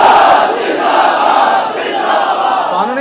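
A huge crowd at a religious rally in Sheikhupura roars the slogan Tajdar-e-Khatm-e-Nabuwwat Zindabad in unison, a loud, sustained wall of chanting voices with no pause across the whole stretch.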